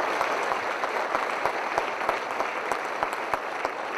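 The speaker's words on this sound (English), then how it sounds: "applause for Judy." An audience at a Cobb County Veterans Day employee ceremony applauds steadily for several seconds, a dense even wash of many hands clapping, with no voices over it.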